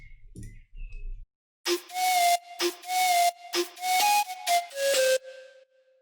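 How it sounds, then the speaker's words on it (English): A breathy, gritty sampled flute tone with distortion plays short rhythmic phrases with a hissing edge, following a couple of brief low thuds. "It's a sampled flute with some distortion on it."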